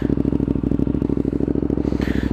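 A motorcycle fitted with a new Danmoto aftermarket exhaust idles close by, a loud, steady, lumpy pulsing rumble that holds evenly throughout.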